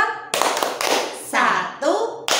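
Hands clap in a steady rhythm, about one clap every half second, while a group chants during a children's lesson on Islamic prayer.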